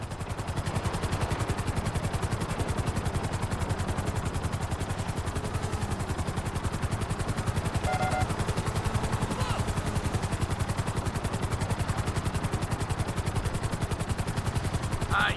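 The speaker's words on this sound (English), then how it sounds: "To maximize acceleration, keep the nose of the helicopter tipped." A helicopter in Grand Theft Auto 5, a loud, continuous rapid rotor chop with engine whine, steady throughout and close up.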